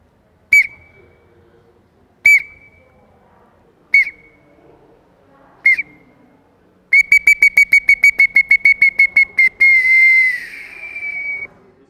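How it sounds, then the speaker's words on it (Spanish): A clay whistle sounds four separate shrill toots, then a rapid trill of quick repeated chirps, ending in a longer wavering warble, close and loud. "canta así como este silbato."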